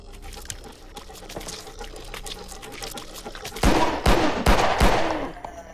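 Gunfire in the video game Filthbreed, a few sharp loud shots clustered near the end over a busy game backdrop, with scattered quieter clicks and noises earlier.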